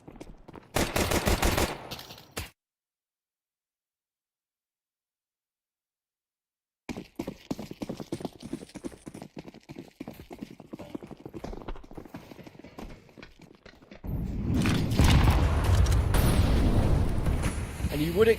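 Rapid bursts of gunfire ring out in a Counter-Strike pro league match, with a loud volley, a stretch of total silence, then clattering shots and a heavy sustained barrage at the end.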